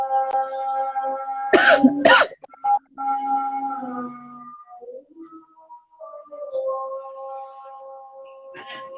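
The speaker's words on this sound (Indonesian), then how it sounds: "Mau batuk gatal." Two quick, sharp coughs sound close by, one right after the other, over steady tonal background sounds, with a little indistinct voice later.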